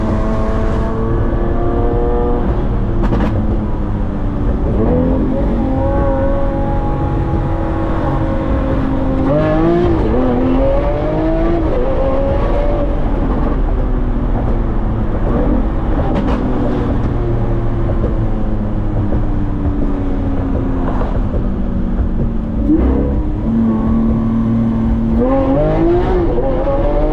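A Lamborghini Aventador S engine roars loudly through hard acceleration, revving up through the gears in rising sweeps that drop at each shift, with sharp exhaust pops between pulls.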